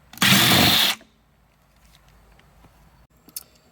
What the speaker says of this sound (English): Remove the trim screws on this side lower trim here. They take a T30 Torx.